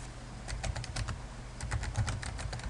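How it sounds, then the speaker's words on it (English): Typing on a computer keyboard while entering a bird observation into a web form: two bursts of quick, irregular key clicks, close and fairly soft, with no talking. "so we can directly start typing in the appropriate field"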